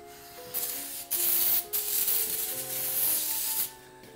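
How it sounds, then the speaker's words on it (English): Brake cleaner hisses from an aerosol can onto the wheel hub studs of a 1995 Chevy Suburban in several bursts of bright spray, close and steady, separated by brief pauses. "you want to clean that off with just some brake clean"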